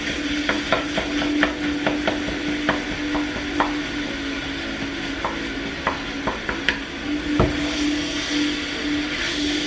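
Ground beef browns in a pan for lasagna or sloppy joe, a steady low sizzle running underneath as a utensil scrapes and taps the pan at irregular intervals.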